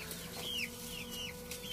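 Native village chicks on a makeshift poultry farm give faint, high peeping chirps, several brief calls spaced apart over a low steady background hum, with no talk.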